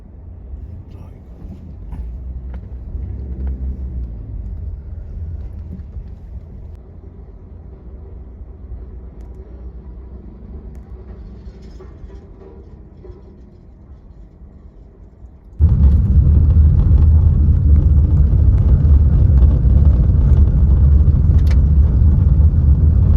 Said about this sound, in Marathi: पुन्हा आम्ही अडकलो ट्रॅफिकमध्ये आणि खूप लांब ट्रॅफिक